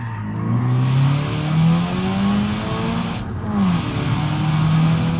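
A 1.8 liter sports car engine in the BeamNG driving game pulls hard uphill, its loud revving drone rising and falling in pitch as it accelerates steadily, close and continuous throughout.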